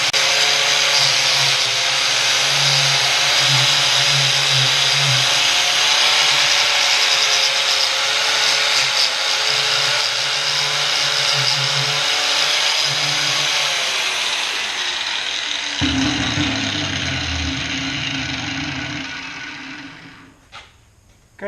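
A 4.5 inch angle grinder works a steel piece held in a vise, a loud steady whine with grinding texture that shifts in pitch near the end before spinning down.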